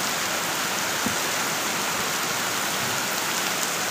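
A heavy downpour roars on without pause, a thick, even wash of rain noise that stays loud and near the whole time, with no one talking.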